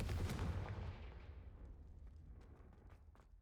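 A Confringo fire spell from Hogwarts Legacy lands in a single heavy blast, then its low rumble fades slowly over several seconds, with a few faint crackles trailing at the end.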